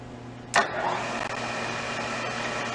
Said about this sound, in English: Let's turn it to high.